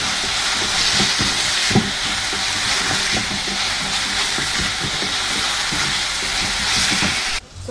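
Onion sautéing in a pan until crispy and brown gives a steady, dense sizzle and crackle that runs continuously and fairly loud, with small pops and stirring scrapes throughout.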